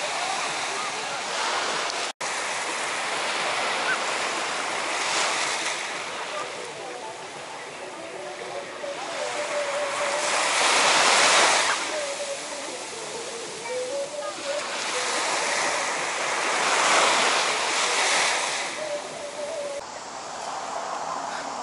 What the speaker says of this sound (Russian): субботним вечером прямо на берегу моря